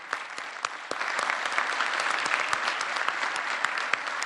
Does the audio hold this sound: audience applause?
yes